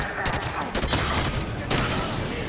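Gunfire rattles in the video game Halo 5 as dense, overlapping volleys of shots fill the scene with steady loud combat noise, with voices faintly present.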